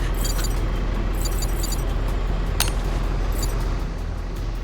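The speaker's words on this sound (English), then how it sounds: "cars are sound effects" Car engine sound effects in a video game make a continuous low hum throughout, with a few brief metallic clinks and chimes on top and no talking.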